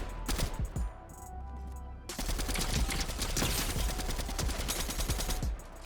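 Bursts of rapid gunfire from a weapon in the video game Fortnite crackle close and loud, with a short gap before a sustained stretch of shots.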